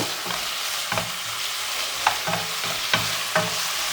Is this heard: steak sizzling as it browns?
yes